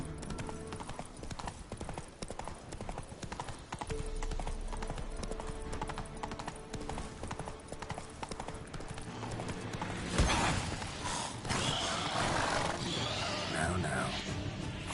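A horse gallops in The Witcher 3 with dense, continuous hoofbeats, joined partway by a louder burst of roaring, snorting noise over steady game ambience.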